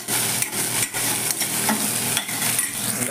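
Okra being stirred with amchur (dry mango powder) in a pan for a South Indian lunch, a steady scraping and stirring with a soft sizzle running continuously throughout, close and fairly loud.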